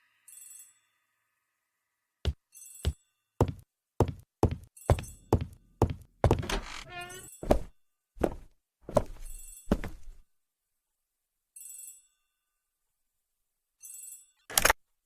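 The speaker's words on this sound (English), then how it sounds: "The telephone in the hall is ringing." An old-fashioned telephone bell rings in a hall in the Agatha Christie: The ABC Murders game, with short repeated bursts of bright ringing and clunks that pause and then return, alone with no voices.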